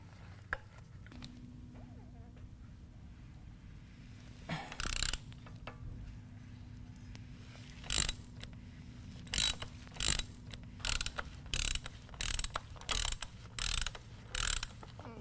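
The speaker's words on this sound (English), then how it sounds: "take your ratchet, your 5/8 inch extension, and your filter wrench and remove your filter" A ratchet with a 5/8 inch extension and filter wrench loosens a Harley Davidson oil filter, giving quiet close bursts of rapid clicking that repeat in an irregular, quickening rhythm.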